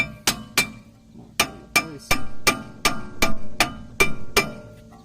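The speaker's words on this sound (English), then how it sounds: "Give it a little hammer." Sharp metallic hammer strikes on brake caliper pins of a Crown Victoria ring out, about a dozen taps in an uneven rhythm, close by and bright with a short ringing tail.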